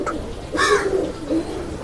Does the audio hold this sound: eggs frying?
no